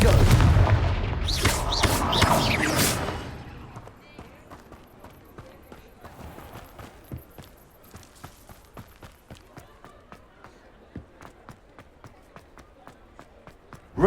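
Blasting-curse spell explosions in the Hogwarts Legacy game, a few loud booming bursts at the start followed by a scatter of sharp, quieter impacts and clicks, with a voice speaking over the opening.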